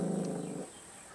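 A dog at a mountain village home gives a short, low growl up close, quiet and fading after half a second.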